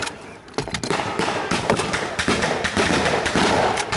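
Rifle fire rings out during a D-Day battle reenactment at La Fière Bridge, a rapid run of sharp, loud cracks and thuds layered densely over one another at close range.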